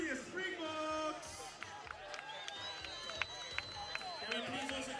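Stadium crowd at a U20 rugby match between South Africa and Fiji cheers and claps under a loud announcer's voice, with whistles and scattered shouts across the stands.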